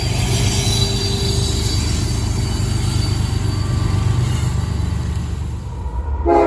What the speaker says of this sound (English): Meanwhile, an unexpected Ferromex DPU passes.